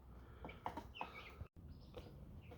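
Chickens clucking close by, a few short murmuring clucks and soft calls in an indoor brooder space, quiet and somewhat muffled over low background noise.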